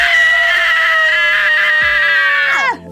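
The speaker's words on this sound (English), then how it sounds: "Screams just for you." A loud, sustained scream with a harsh, bleating quality holds steady for about two and a half seconds, then drops sharply in pitch as it breaks off into silence.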